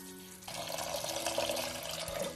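Water poured from a stream into a pressure cooker holding soaked chickpeas for Kerala-style kadala curry, a steady splashing gush that starts after a brief pause and runs on evenly.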